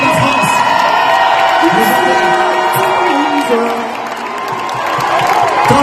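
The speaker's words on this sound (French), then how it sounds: "On peut applaudir le Stade Toulousain qui nous a rendu fiers et Antoine Dupont" A packed stadium crowd at a concert in Toulouse applauds, cheers and whoops loudly and continuously, with a stage voice speaking over the roar.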